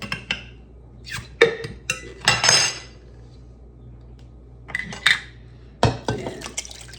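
Canned quartered tomatoes tipped from their jars into a cooking pot for pantry chili, heard as a few brief wet splats and clunks against the pot, with quiet pauses in between.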